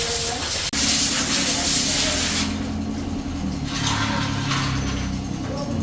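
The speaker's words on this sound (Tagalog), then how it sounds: "Flashing na lang tapos magde-drain ng tangke." Water drains from a tank after flushing, starting as a loud rushing hiss that drops to a softer gushing spray partway through, close by, with faint voices in the background.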